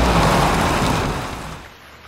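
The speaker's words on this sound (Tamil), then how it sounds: "மழை இவ்வளவு ஸ்பீடா வந்துகிட்டு இருக்கு" Heavy rain pours down in a steady, loud, dense wash of noise that eases slightly toward the end, with no voices.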